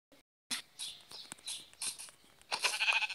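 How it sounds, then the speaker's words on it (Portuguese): Sheep in the Minecraft video game bleat in short, thin bursts, several quick cries in a row after a brief silence, fairly close, alongside small clicky game sounds, with no talk. "Matar aqui essa ovelha."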